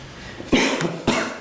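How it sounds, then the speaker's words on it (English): Two short, sharp coughs close by, about half a second apart. "That's me coughing."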